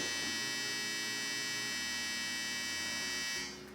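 A clothes dryer running nearby: a steady electrical hum with a high whine, continuous, dropping slightly in level at the very end; no voices.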